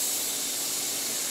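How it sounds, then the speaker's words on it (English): A pot of boiling water, ready for blanching potato slices, gives off a constant, close, fairly loud steamy hiss with no breaks or voices. "Okay, our boiling water is ready."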